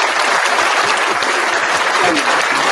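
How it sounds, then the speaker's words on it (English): Loud, continuous applause from many hands forms a thick, even roar of clapping that holds steady without a break. "We're going to give you a round of applause for that."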